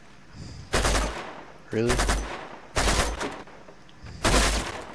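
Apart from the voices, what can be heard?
gunfire in the video game Uncharted 2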